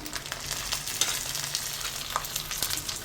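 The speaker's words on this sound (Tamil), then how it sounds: "ஒரு 1/2 டீஸ்பூன் அவ்வளோ குருமிளகு, 5 பச்சை மிளகு, பூண்டு ஒரு 10-15, 1 இன்ச்சு இஞ்சி இதுவும் போட்டுக்குவோம்" Black pepper, green chillies, garlic and ginger fry in a hot pan, giving a steady close sizzle with soft crackles and a light stir, and no voices.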